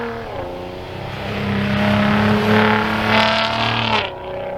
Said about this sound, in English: I've got the windows cracked a little bit so you guys can hear the exhaust some